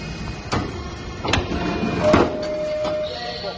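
A shearing machine cuts 2.3 mm metal sheet, giving a few sharp mechanical clunks and a short grinding cut over a steady shop hum, close and fairly loud.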